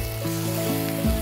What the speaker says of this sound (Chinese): 一开始我们先从鱼皮开始，这一面开始煎。